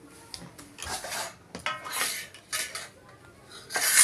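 Plates and cutlery clatter and scrape as a Bangladeshi family gathers dishes to serve khichuri at home, with several sharp clinks and rattles in uneven bursts, close by and moderately loud, with no talk over them.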